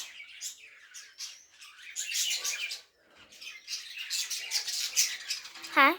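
Several birds chirp and tweet in quick bursts throughout, with a sharp, louder call near the end, no talking.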